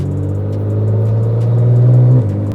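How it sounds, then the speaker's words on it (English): A Nissan GT-R twin-turbo engine runs steadily at close range, a low, even hum with a slight rise in pitch before it settles back, heard alone without talk. "Hear those nice twin turbos?"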